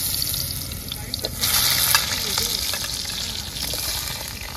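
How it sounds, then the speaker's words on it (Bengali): Potatoes sizzle and crackle in hot oil, frying outdoors as part of a chicken recipe, a steady bright hiss with a brief surge in the middle and faint stirring. "তেল গরম হয়ে গেছে, এখন আমি আলু দিয়ে দিচ্ছি।"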